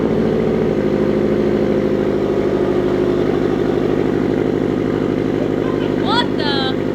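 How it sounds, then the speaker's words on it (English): A car fitted with a Tomei Expreme Ti exhaust turns over and settles into a steady, deep idling rumble close by, with a brief sharp squeal near the end and voices talking over it. "let me start the car"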